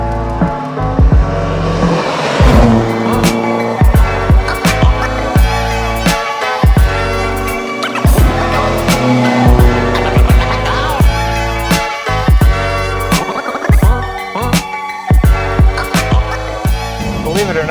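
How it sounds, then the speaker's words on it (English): Carbureted engine of a 1974 Alfa Romeo GTV growling steadily while driving, a loud, continuous engine note with rhythmic pulses and occasional sharp bumps throughout. "the carbs really give it this nice growl when you're out driving the car around"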